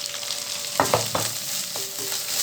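Flattened rice and grated coconut sauté in a pan, a continuous gentle sizzle with a couple of brief utensil clinks and scrapes, without speech.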